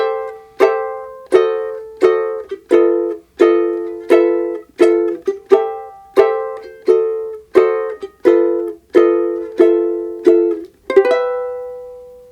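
A ukulele strums a jazzy chord progression, one bright chord roughly every beat in an even rhythm, close and clear, with no voices.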